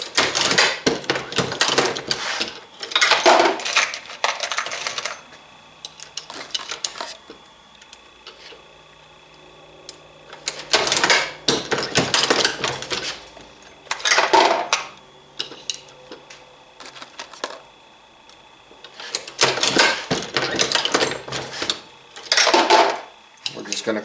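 A Dillon RL550B reloading press loads .38 Special rounds in three bursts of rapid mechanical clacking and ratcheting. Each burst lasts several seconds, with quieter pauses and faint handling noises between them.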